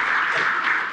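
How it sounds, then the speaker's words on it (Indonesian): An audience at a Lazisnu PBNU charity organization event in Indonesia gives a round of applause. Dense, even clapping fills the short moment at close range. "mohon maaf minta tepuk tangan lagi sedikit untuk manajemen Lazisnu, PBNU"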